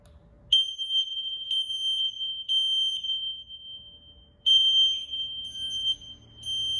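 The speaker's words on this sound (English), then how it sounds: "I'm going to press this smoke alarm so you can hear it." A loud, piercing smoke alarm beeps in rapid pulses, stops briefly, then sounds again with the same harsh, high-pitched tone.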